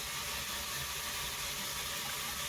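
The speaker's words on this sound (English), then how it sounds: "Okay, I turned the faucet on. You can hear the water, and you notice that it is not leaking." Water runs steadily from a repaired bathroom sink faucet, a continuous even hiss and splash heard up close with no other sounds.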